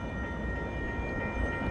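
Local mixed freight train on the rails near Cedar Rapids, a steady low rumble and rolling wheel noise with faint tonal squeal, continuous and moderately close.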